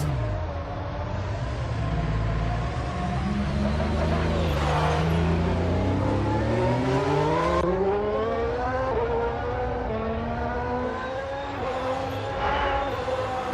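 A Formula One car on track during pre-season testing, its high-pitched engine note rising and falling through gear changes as it passes, loud and continuous with no talk.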